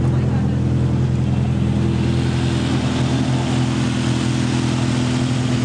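A loud, rumbling exhaust from a modified Toyota AE86 Levin with a 4AGE engine swap and individual throttle bodies drones steadily and close throughout, a deep continuous engine roar with no breaks.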